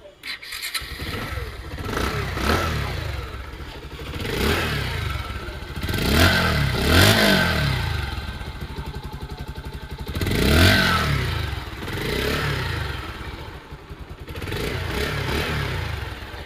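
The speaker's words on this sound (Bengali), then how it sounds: "আগে দেখাবো আপনাদেরকে বাইকটির সাউন্ড কন্ডিশন।" A second-hand Bajaj Pulsar motorcycle with about 8,000 km on it idles close by with a hard, clattery beat, then revs up and settles several times in smooth swells.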